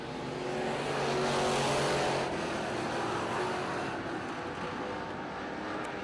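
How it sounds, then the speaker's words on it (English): Race cars roar steadily around a track during a feature race at Fulton, a continuous distant engine drone that swells slightly and then settles as the pack circulates. "He's trying to get around Sullivan on the outside as well off of corner number 4"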